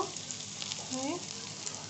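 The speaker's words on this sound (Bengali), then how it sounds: "দিয়ে আমি নাড়াচাড়া করব আর একটু ভালোভাবে ভাজবো।" Vegetables and noodle spice mix frying in a pan at home, giving a steady, fairly quiet sizzle throughout with a few brief stir scrapes.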